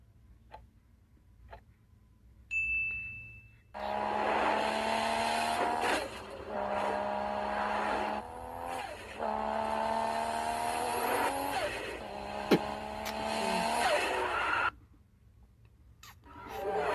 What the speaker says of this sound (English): Nissan 240 SX.